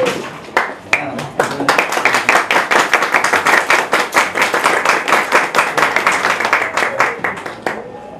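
Audience clapping at a family-themed gathering, with individual claps audible in steady, fairly loud bursts that build over several seconds, then thin out toward the end.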